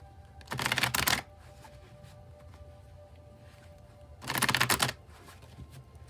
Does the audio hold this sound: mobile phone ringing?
no